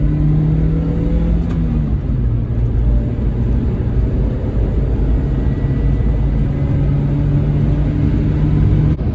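Loud, steady engine rumble from inside a 2006 Pontiac Vibe accelerating uphill after a downshift, the drone shifting slightly in pitch as it pulls, with heavy road noise.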